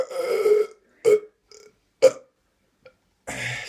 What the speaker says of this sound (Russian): Монстр килл отрыжка.